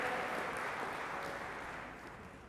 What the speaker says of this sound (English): How about a round of applause for showing up?